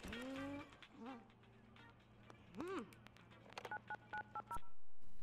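Dialing tones from a telephone in The Sims 2 beep in a quick series of short paired notes near the end, following warbling game sounds and a low steady hum.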